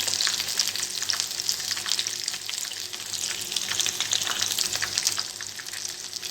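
Chicken broast pieces frying on low heat give a dense, even crackling sizzle of bubbling oil, steady and close throughout with no voices.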